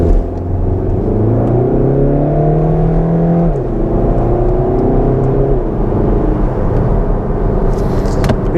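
A Volkswagen GTD diesel engine revs up under acceleration while driving, a loud, close rumbling drone that rises in pitch, dips between gear changes, then climbs again before settling into steady road noise.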